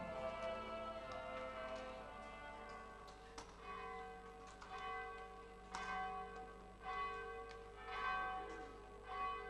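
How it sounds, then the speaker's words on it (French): Church bells swing in full peal at an abbey church during an August open-air sound and light show in Saint-Sever, with overlapping strikes ringing steadily at a moderate distance and no voices. "nos cloches sonnent à la volée sous le portail de l'abbatiale"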